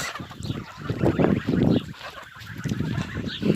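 A grazing flock of about eighteen or nineteen geese honks nearby in loud, overlapping bursts with brief pauses between calls.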